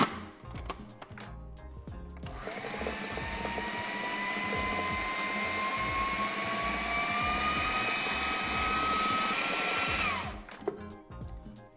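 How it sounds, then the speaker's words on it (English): A kitchen mixer pureeing cooked duck with its cooking liquor into a paste, a loud steady whirring motor run of about eight seconds with a slowly rising pitch, framed by brief clatter before and after. "And get that into my mixer, mix it up"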